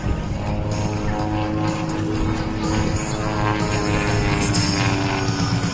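A vintage WWII-era propeller airplane performing aerobatics, its steady droning engine and prop hum continuous and fairly loud, with slight shifts in pitch as it maneuvers.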